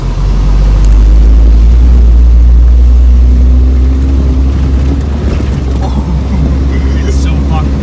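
A solid axle swapped Toyota 4Runner with no shocks drives along, its engine a loud, low continuous rumble up close inside the cab, with people talking over it.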